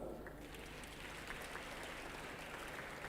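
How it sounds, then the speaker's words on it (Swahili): Steady crowd applause greets the ICT Commission director at a Youth in ICT Day event, a dense, even patter of many hands clapping throughout with no voices. "Naomba tumpigie makofi mengi sana."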